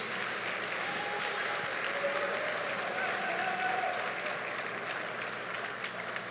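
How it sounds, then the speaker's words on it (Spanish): A church congregation applauding during a Sunday sermon, a steady dense wash of clapping that holds at an even level throughout, with a few faint voices and calls rising over it. "déle ese aplauso al Señor"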